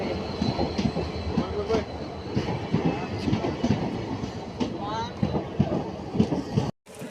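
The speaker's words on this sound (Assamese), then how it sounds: "এতিয়া ট্ৰেইনত উঠিছোঁ এতিয়া গৈ আছোঁ" A moving passenger train rumbles and clatters steadily from on board, with rhythmic wheel knocks, a faint squeal and voices talking over the noise before a sudden cut at the end.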